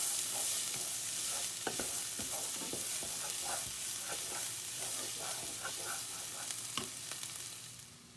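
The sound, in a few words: stirring jarred pasta sauce in a hot pan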